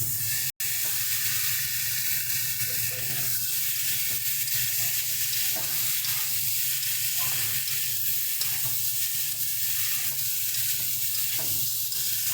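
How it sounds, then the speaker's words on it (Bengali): Chopped tomatoes frying in a pan for a rohu fish curry with cauliflower, a steady loud hissing sizzle throughout with faint intermittent stirring scrapes, close up and without talk. "টমেটোটাকে একটু ভালো মতন নেড়ে ছেড়ে হালকা একটু নরম হওয়া পর্যন্ত অপেক্ষা করব।"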